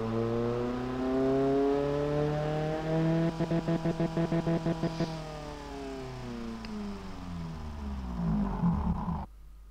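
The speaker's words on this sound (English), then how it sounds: "It's more in line with what I would expect for an engine this size and quality." A modified Iron Duke car engine in a video game revs up and down in smooth pitch sweeps, with a rapid stuttering burst midway through. It is heard alone and fairly loud.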